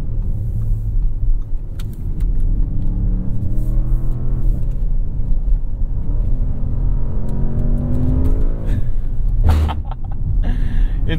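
A 2024 Audi S8 with a 4-liter twin-turbo engine accelerating on canyon roads, a steady loud engine drone with rising harmonic sweeps as it pulls through the revs, sustained throughout with a brief shift-like dip near the end.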